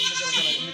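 Goat bleating close by on a farm among nanny goats and kids, a single short wavering bleat heard alone with no talk over it.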